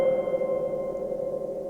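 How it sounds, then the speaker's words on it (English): A synthesizer set to a music box patch plays a sustained, bright tone through a spring reverb, ringing steadily and fairly loud with no talking. "So this particular setting is Music Box."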